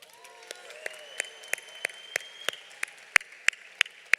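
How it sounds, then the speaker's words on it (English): Sparse applause at a Coronado High School 2022 graduation ceremony: a few separate claps ring out in a slow, uneven rhythm with whistling tones early on, thin and scattered rather than a full crowd. "let's give a round of applause for Omar Garcia"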